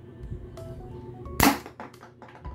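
A K117D spring-type airsoft gun fires one sharp, loud snapping shot up close, with light handling clicks and rustle before and after.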